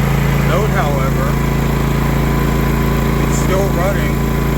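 A Predator 11500 generator engine runs steadily in eco mode, a loud, close, continuous mechanical drone with a constant hum and no pauses.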